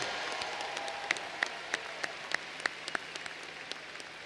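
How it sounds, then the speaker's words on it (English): A graduation audience applauds the name readers: a steady wash of clapping from many hands, with distinct nearby claps standing out at a fairly even pace. "How about one big round of applause for Mrs. Housel and Mr. Davies,"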